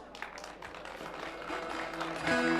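An audience at a village festival in KızılHüyük claps in a steady, scattered patter of moderate loudness, swelling slightly toward the end as faint musical tones sound beneath it.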